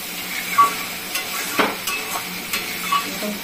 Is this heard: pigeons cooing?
no